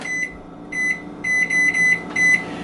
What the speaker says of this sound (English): So I'm going to set a timer here